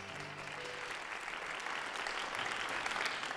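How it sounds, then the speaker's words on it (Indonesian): A studio audience at TVRI South Sumatra's 51st anniversary show claps in a steady, fairly faint wash of applause, continuous throughout and without talk over it. "kita semua tepuk tangan dong."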